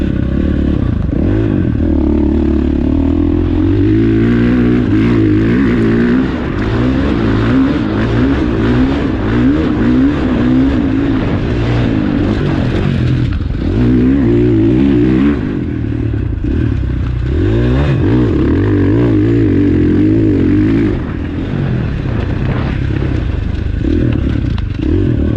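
A motorcycle engine runs steadily and loudly throughout a ride, its throttle rising and falling in smooth, continuous revs with some clattering mechanical noise and no talk.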